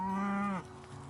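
A cow on a ranch gives a single close, loud, low moo lasting about half a second before it cuts off into quiet.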